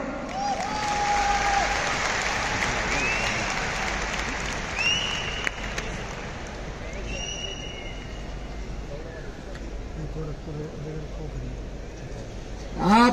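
An audience at a large stadium gathering in Delhi bursts into sustained applause, a dense wash of clapping that carries on steadily for several seconds with crowd noise and a few whistles mixed in.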